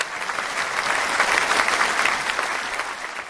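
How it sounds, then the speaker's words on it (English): Applause for an award winner at an awards night, a steady and dense wash of many hands clapping together, loud and sustained without a break. "So let's give him a round of applause anyway."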